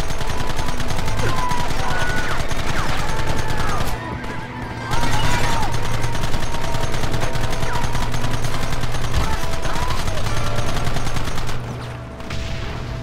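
Gunfire in the video game Red Dead Redemption rattles almost continuously under horse neighs, galloping hooves and shouting voices, with a brief lull partway through.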